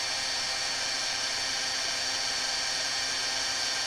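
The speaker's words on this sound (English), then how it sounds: "Then we'll grab our heat tool and get this heated." Handheld heat embossing tool blowing hot air over a card, a steady loud broadband whoosh with a high whine that runs unbroken and alone.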